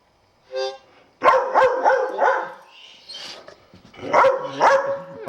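A dog barks and yips in short close bursts, several sharp barks clustered together with a brief whimpering yip at the start, loud and alone.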